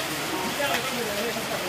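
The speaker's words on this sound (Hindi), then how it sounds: "देखो नज़ारे बारिश के।" Heavy monsoon rain pours onto a flooded town street in Dantour while runoff rushes past, a steady, dense wash of noise with a voice talking over it throughout.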